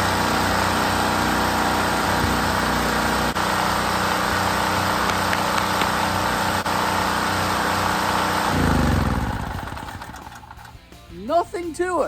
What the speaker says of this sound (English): Very, very glad that my generator is working today.